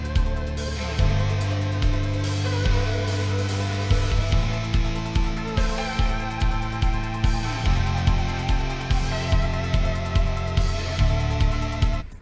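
A full video game soundtrack mix, heard without the exciter plugin, with sustained synths and pads over a thumping kick drum that pulses regularly through the second half, loud and upfront.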